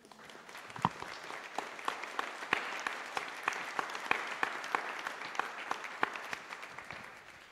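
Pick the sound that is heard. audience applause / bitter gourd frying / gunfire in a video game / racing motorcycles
audience applause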